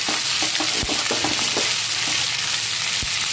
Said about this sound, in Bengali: টমেটোটা ভাজা হয়ে গেছে, এবার আমি এর মধ্যে আদা বাটা দিয়ে দেবো।